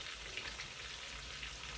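Steady, dense crackling sizzle of flour-coated stuffed milkfish frying in hot oil, continuous and fairly close, with no voices.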